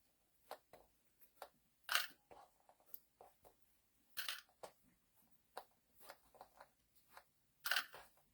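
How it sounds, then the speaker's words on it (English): Scissors snipping through a tea towel to cut it in half, a series of faint, close, crisp cuts in an irregular rhythm, a few louder snips standing out in an otherwise quiet room. "I'm going to cut this again in half."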